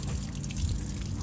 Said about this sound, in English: We're still draining that water out of there